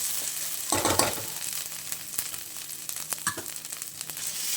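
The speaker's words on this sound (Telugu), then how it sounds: "ఒక స్పూన్ అల్లం వెల్లుల్లి పేస్ట్ తీసుకోండి పచ్చి వాసన పోయేదాకా పచ్చి వాసన పోయేదాకా ఫ్రై చేసుకోండి" Ginger garlic paste fries in hot oil for a chicken curry, a close, steady sizzle with bursts of louder crackling and a few stirring scrapes, no voices.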